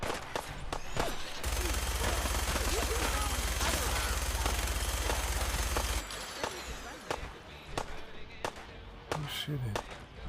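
Rapid automatic gunfire in the VR video game Fallout 4, played on an omnidirectional treadmill, rattles in a dense, loud sustained burst for several seconds, preceded and followed by scattered sharp single shots.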